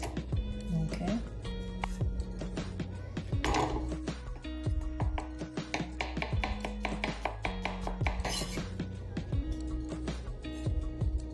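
An onion is chopped with a knife on a board, a fast run of crisp close knocks and taps through the passage while someone talks over the chopping.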